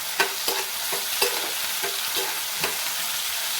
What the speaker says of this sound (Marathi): कांदा शिजत आला की त्यामध्ये एक मोठा टोमॅटो घालते। तोही परतवून घेते।